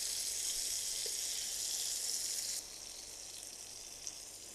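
Tomatoes frying in a hot pan give a steady hiss. The sizzle is loud at first, then drops abruptly to a quieter, softer crackle. It is close and has no talking.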